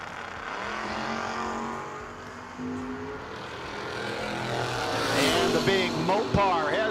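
A 1961 Chrysler drag racing at a no-box 660 shootout, engine roar building in pitch and loudness down the strip as an announcer talks over it throughout.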